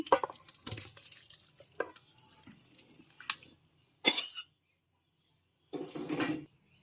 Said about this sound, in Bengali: এবার তরকারিটা ঢেলে নিব এই যে তরকারিটা ঢেলে নিচ্ছি